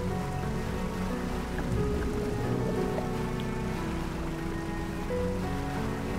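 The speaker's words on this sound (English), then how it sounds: "It's raining." Rain falling on the sea in the fishing game Dredge, a dense, even hiss of drops on water over a low rumbling boat hum, continuous and steady with no talk.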